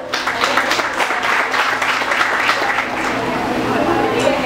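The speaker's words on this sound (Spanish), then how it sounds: "un aplauso para ellas" Steady, dense applause from an audience cheering young dancers at a flash dance performance, loud and continuous throughout with crowd noise mixed in.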